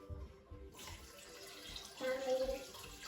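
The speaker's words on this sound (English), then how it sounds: "So I'm just gonna add plain water." Plain water poured into a slow cooker for a family dinner, a steady splashing pour that swells louder partway through, close by with no talk over it.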